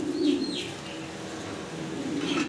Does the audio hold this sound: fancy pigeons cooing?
yes